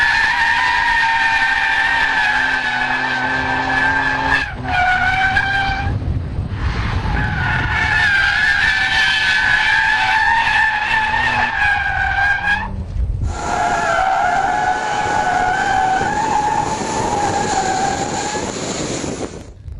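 Nissan GT-R drifting on a track, loud sustained tire squeal with high pitched tones rising and shifting across several long slides, brief gaps between drifts, and engine roar underneath.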